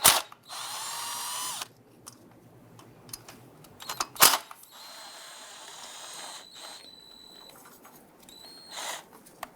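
Two 8mm bolts come off the intake bracket of a 1994-2004 Ford Mustang 3.8L V6, with brief bursts of a power tool or ratchet, metallic clicks and clatter between quiet pauses, close up.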